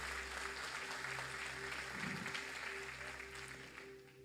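A church congregation claps together in steady, continuous applause that fills the hall at a moderate distance over a low background hum, then slowly fades toward the end.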